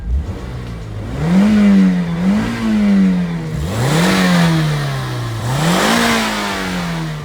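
A Toyota MR2 with a four-cylinder mid-mounted engine accelerates hard through three gears, revs climbing steadily, then dipping at each shift, loud and heard from inside the car.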